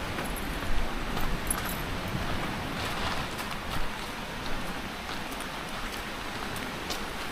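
Fresh hill water runs down steadily near a beach in the Andaman Islands, a dense, continuous broadband rush of flowing water with a few brighter splashes. No voices are heard.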